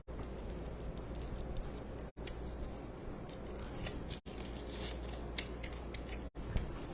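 Scissors snip steadily through Christmas tree decorations, a dense run of close, crisp cutting sounds with a few brief pauses and no talking.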